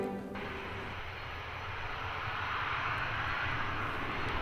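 Aircraft noise beside busy airport runways, a continuous broad engine roar that holds steady and swells slightly, with a brief tonal whine fading out at the start.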